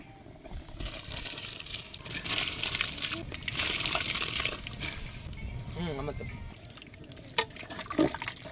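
Seeraga samba rice being added to a pot for chicken biryani gives a rushing, sloshing pour that swells and fades over several seconds, close up, with a few clinks near the end.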